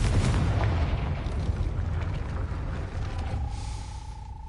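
A Confringo spell explosion in Hogwarts Legacy roars as a sustained, loud, low rumbling blast that slowly fades, with a faint whistling tone near the end.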